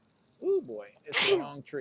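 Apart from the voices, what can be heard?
sneeze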